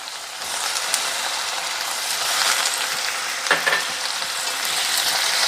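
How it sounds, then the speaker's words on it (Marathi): Tomato and potato sautéing in a pan for bombil rice, a steady close sizzle and fry running throughout with a brief clink of a utensil stirring midway. "आणि पुन्हा 2 मिनिटं मी चांगलं हे परतून घेणार आहे"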